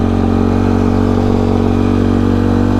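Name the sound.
Yamaha YFZ ATV engine while cruising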